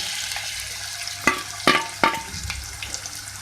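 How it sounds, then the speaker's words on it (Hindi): Two medium onions fry in oil in a pan for green beef keema, a steady close sizzle punctuated by three sharp stirring clinks and lighter scrapes afterward, with no talking. "सबसे पहले हम ऑयल में 2 मीडियम साइज़ की प्याज ऐड करेंगे।"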